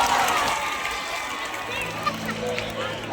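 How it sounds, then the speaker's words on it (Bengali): Crowd applause from a New Year's concert audience in Kolkata, a steady dense clapping wash at moderate level with crowd murmur throughout. "একটা জোরে হাততালি দিচ্ছি তোমাদের জন্য"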